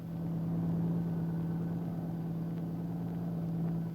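World War II tanks moving toward Pardo on Cebu in the Philippines make a steady droning engine rumble with a strong low hum, continuous and even in level throughout.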